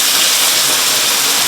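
Water hits a hot frying pan of dumplings on an induction stove and sizzles loudly, a dense, steady hiss filling the whole moment close up.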